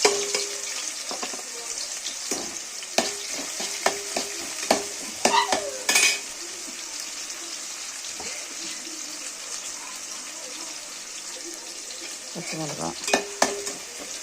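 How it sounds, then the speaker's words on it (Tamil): Onions and green chilies frying in a pan for dry chicken, a steady close sizzle broken by clinks and scrapes of stirring, with a few louder spoon knocks near the start and end. "பச்சை மிளகா நல்லா ஃப்ரை ஆகும்."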